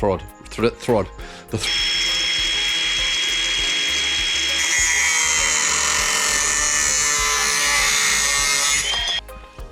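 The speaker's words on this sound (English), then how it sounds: "And we'll drill it" After a few brief spoken words, a power drill bores into metal, whirring loudly and continuously for several seconds with a harsh, grinding high-pitched buzz, then stops.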